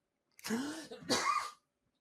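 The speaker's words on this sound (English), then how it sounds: "That was a weird way to cough" Two quick, harsh coughs close to the mic, with a short pause between them, followed by silence.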